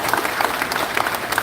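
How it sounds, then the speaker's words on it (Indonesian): An audience at a national working meeting of an Islamic organisation breaks into applause, a steady wash of many hands clapping at moderate distance with no talk over it. "Boleh tepuk tangan"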